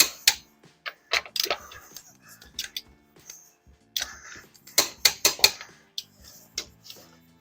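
Wheel nuts are tightened on a Mitsubishi Pajero wheel, with a series of sharp metallic clicks and ratcheting ticks in uneven bursts, close and fairly loud against near silence.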